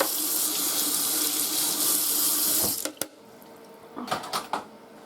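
Kitchen tap water pours steadily into a sink as eggshell bits rinse down the drain, loud and close, then the flow cuts off and a few light clunks and knocks follow.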